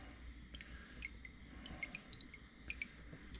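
Paint drips from a freshly dipped Victor 1.75 trap part being modified, small irregular drops ticking quietly over a low background hush.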